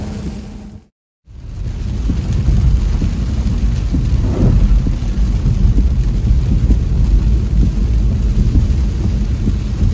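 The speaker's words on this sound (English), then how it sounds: "Today it's still raining, so we may not be able to see the place because it's raining." Steady heavy rain pours with rumbling thunder underneath, loud and close, broken by a brief silent gap near the start before the downpour continues unbroken.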